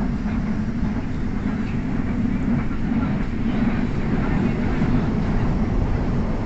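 Steady low rumble of a Manila MRT metro train running on the rails approaching R. Papa Station, continuous and even throughout, with faint muffled voices beneath.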